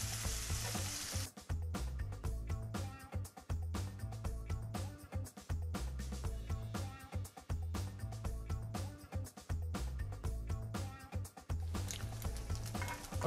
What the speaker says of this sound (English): you're gonna dump them into this hot pan, and then you are gonna saute these until they start to take on a little bit of color